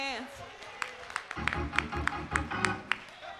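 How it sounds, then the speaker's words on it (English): Church congregation clapping hands together at a Sunday worship service, a steady rhythmic beat of sharp claps joining in after about a second, mixed with music and voices. "Somebody clap your hands."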